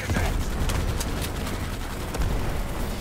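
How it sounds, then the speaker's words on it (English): Grenade blast in the game Starship Troopers: Extermination: heavy, booming explosion and gunfire-like bursts filling a loud, chaotic battle, with a voice heard briefly. "that grenade's gonna fuck us"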